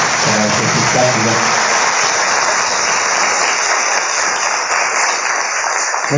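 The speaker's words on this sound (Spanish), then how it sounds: "para quien pide un fuerte aplauso" A large audience at a cultural festival dance show closing in Salta gives loud, dense, continuous applause for a choreographer, with some voices mixed in early.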